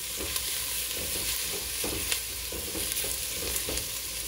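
Fresh garlic, about a teaspoon, sizzles steadily in a soup pot, a close, continuous frying hiss with soft stirring scrapes recurring through it and no voices.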